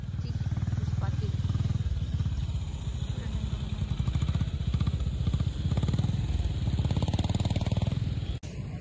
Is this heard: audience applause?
no